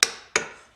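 Two light, crisp taps land about a third of a second apart as a mallet strikes a chisel cutting corner to corner into redheart wood for a bandsaw box.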